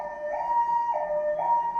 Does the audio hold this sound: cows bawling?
no